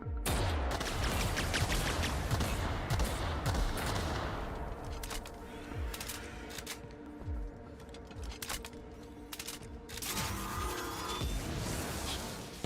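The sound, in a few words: grenade launcher firing in video game The Outer Worlds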